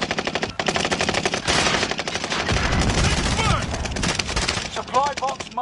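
Rapid bursts of automatic gunfire in the Call of Duty video game, a dense rattling fusillade with scattered single shots, loud and continuous throughout.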